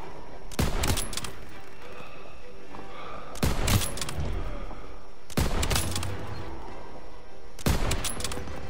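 Bursts of automatic gunfire from the game Call of Duty: WWII crack out in four loud, spaced volleys, each a rapid cluster of shots followed by quieter battlefield ambience.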